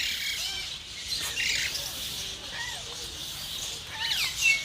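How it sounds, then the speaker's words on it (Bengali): Parrots chirping in a zoo cage at Nandankanan, with scattered high tweets and squawks over steady ambient crowd noise, moderately near, brief calls rising near the end. "এটা টিয়া পাখির খাঁচা।"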